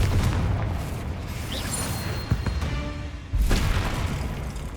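Confringo blasting spell explosions in the video game Hogwarts Legacy during a fight with spiders: deep booms and bursts of impact over a constant game-action rumble, with a heavy blast near the end.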